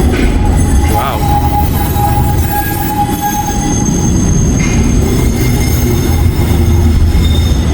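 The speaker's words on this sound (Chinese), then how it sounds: "还有直通的 tram 来到火车月台" A tram pulls up at Sydney Central railway station, its rail noise rumbling steadily and loudly throughout with brief wheel squeals and a thin whine, while voices chatter faintly in the background.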